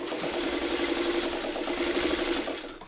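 A domestic sewing machine stitching a beehive quilt pattern runs in a fast, even mechanical whir with a rhythmic needle clatter, close up and continuous before slowing at the end.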